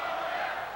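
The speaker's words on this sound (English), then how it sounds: "Chant of Doris." A crowd chants at a 1999 women's boxing match in the Halifax Metro Centre arena. It makes a loud, dense roar of many voices that holds steady for a brief moment.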